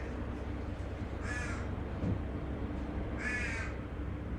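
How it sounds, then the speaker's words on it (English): A crow gives two harsh caws about two seconds apart, faint and distant against a steady low background hum. "It's a bird. It's a bird,"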